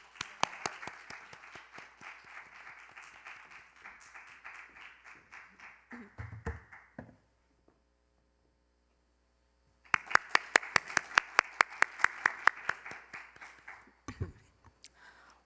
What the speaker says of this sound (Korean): 이윤희 참가자의 연설 박수로 들어보겠습니다